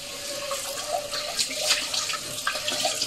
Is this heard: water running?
yes